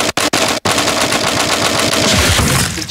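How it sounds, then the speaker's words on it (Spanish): An assault rifle fires in a video game, a loud, sustained rattle of rapid shots after a few sharp opening cracks, continuing to the end without talk. "Es una arma de asalto."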